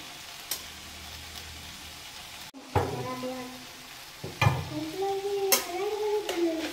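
Onion mix sautéing with chili powder and green chilies for a paneer roll, a low sizzle with stirring scrapes and a few utensil knocks that grow louder partway through, close by, with no voices.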